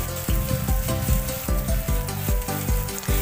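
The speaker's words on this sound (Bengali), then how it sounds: "প্রথমে আমরা পেঁয়াজটা দিয়ে দেওয়ার পর নেড়ে নেব খুব ভালো করে।" Onion and green chili frying in a pan while being stirred for chicken noodles, a loud, dense close sizzle with repeated rhythmic knocks and scrapes of the spatula, and no voices.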